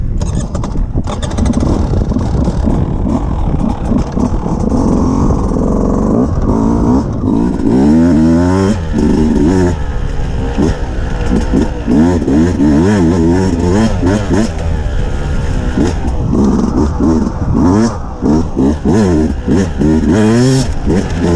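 A 2022 Beta RR motorcycle engine revs hard and repeatedly, rising and falling whines close by and loud throughout, with the engine note climbing in pitch on each throttle blip.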